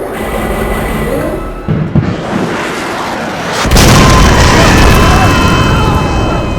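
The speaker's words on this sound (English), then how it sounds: "The missiles fire, flying to the hospital and destroying an entire wing in one blast." Missiles fire and a heavy blast explosion destroys an entire hospital wing in an audio drama, a rumbling build giving way to a sudden loud, sustained roar of debris and noise.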